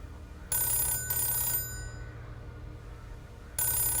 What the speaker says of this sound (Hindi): टेलीफोन बहुत ज्यादा ही बज रहा है ना